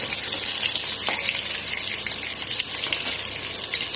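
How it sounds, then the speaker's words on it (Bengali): Green chilies and black cumin seeds tempering in hot oil for a small-fish curry, a dense, loud, continuous sizzle that stays steady throughout. "এইবার এই তেলের মধ্যে ফোড়ন দেব কাঁচা লঙ্কা আর কালো জিরে। আচ্ছা, এটা দিয়ে একটু ভাজা ভাজা হতে দেব।"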